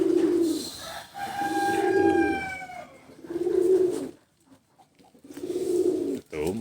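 Pigeons coo in a breeder's loft, with four low, throaty bursts in steady succession. Thin whistling bird calls drift above the coos, and a short quiet gap falls before the last call.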